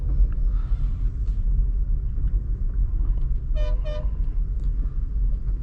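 A manual car pulls away as the clutch is eased out, its engine giving a steady low rumble throughout, with a brief double horn-like toot partway through; no one speaks.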